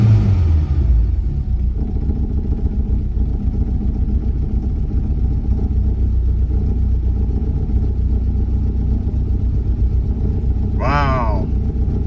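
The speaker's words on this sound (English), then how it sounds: "that sounds like a freaking Volkswagen" A Mk2 VW Jetta 1.8 engine idling with a major exhaust leak, a loud, steady, rough rumble close by, with a voice briefly speaking near the end.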